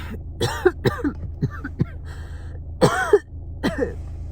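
Several harsh coughs and throat-clearing bursts come in irregular clusters, close and fairly loud, with short pauses between them and no talking.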